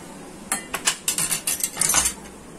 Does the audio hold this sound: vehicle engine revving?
no